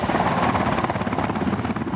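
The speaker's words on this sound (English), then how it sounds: "U.S. Army helicopters are flown in from a nearby base in Honduras." A U.S. Army helicopter's loud, steady rotor thump and engine roar, close and continuous with no other sounds, in Honduras after Hurricane Mitch in 1998.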